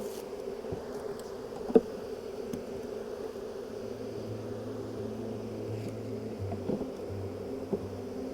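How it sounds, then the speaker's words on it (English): Honey bees hum steadily around the hive frames at an organic apiary in Fujairah, a continuous close drone with occasional louder passes and light handling knocks. "Let's go to put the bees there."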